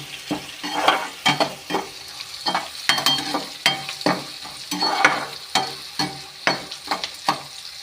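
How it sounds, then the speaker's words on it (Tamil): Garlic, green chillies and curry leaves sizzle and fry in hot oil while a spoon stirs them, a crackling bed broken by repeated scraping strokes against the pan. "இப்போ பூண்டு, பச்சை மிளகாய், கருவேப்பிலை எல்லாமே எண்ணெயில் பொரிஞ்சிட்ருக்கு"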